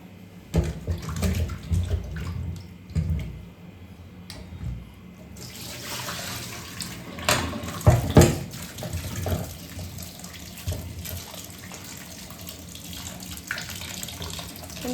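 Large ivy gourds being washed under a running kitchen tap, with a steady stream of water splashing into the sink and louder bursts and sloshes as the vegetables are rubbed and turned in the flow, no voices.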